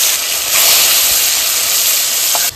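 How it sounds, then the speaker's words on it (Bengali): Catla fish pieces sizzle in hot mustard oil in a pan, a loud, continuous hissing fry close by with a brief sharper crackle near the end. "এবার মাছগুলো ভেজে নেব। এইবার আমি মাছটা ছেড়ে দিচ্ছি।"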